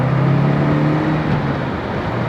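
A Citroën CX Turbo 2 engine accelerates, a loud close drone rising in pitch as the car pulls, with no talking over it.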